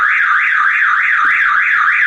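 A car alarm wails continuously with a steady rising-and-falling siren tone, loud and close, with no voices.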